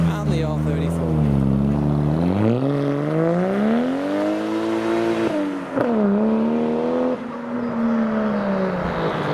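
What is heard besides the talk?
turbocharged manual Toyota Supra leaving a car show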